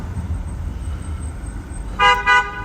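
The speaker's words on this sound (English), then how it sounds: "How about you stop honking because you were in the wrong lane?" Ambient traffic rumble, then two short car horn honks near the end, close and loud, from a driver in the wrong lane.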